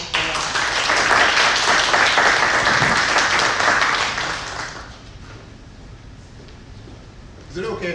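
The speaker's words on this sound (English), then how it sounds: "So without further ado, Sean, let's give him a applause." Audience applause at a business presentation on affordable housing, loud dense clapping from a room of people that fades away after about five seconds, leaving quiet room noise before a brief sound near the end.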